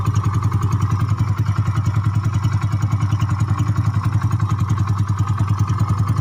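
Yamaha Mio 150cc scooter engine revving with a rough, noisy, clattering running note, steady and close throughout with a rapid even pulse and no talk.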